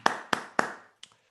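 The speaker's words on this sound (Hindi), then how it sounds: "मैं चाहता हूँ अजय जी के लिए एक बार और जोरदार तालियों से स्वागत होना चाहिए।" Three sharp hand claps spaced evenly, then a faint fourth tap, from a sparse audience welcoming a motivational speaker on stage, quiet and close with no talk.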